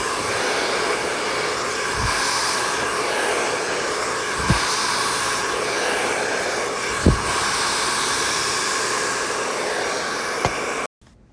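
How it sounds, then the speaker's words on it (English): A hair dryer blow-dries hair during cosmetology practice, a steady close whooshing drone with a few faint knocks and thumps. It runs for about eleven seconds, then switches off abruptly. "Blow dry until the hair is completely dry with no dampness whatsoever left"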